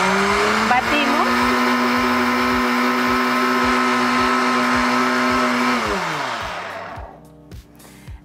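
An electric blender whirs steadily as it beats savory crepe batter with salt and pepper, loud and close, then spins down and stops near the end.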